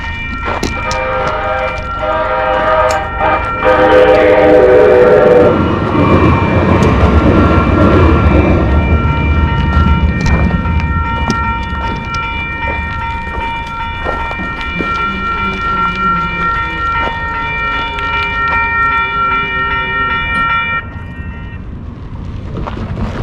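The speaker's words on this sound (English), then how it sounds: "So it's really busy with light rails going by." Trains roll through a busy Union Pacific railroad yard with light rail cars going by, a loud steady rumble and clatter of wheels with a sustained horn-like tone, close and continuous with no talking.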